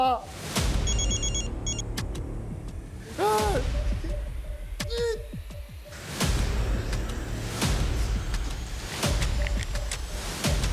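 A telephone rings in repeated bursts roughly every three seconds, loud and close, with background noise and a voice between rings.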